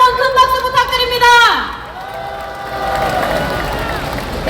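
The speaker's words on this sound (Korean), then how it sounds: "다시 한번 큰 박수 부탁드립니다." At a political rally, a musical tone gives way to loud crowd noise with applause and cheering that swells and continues under general hubbub.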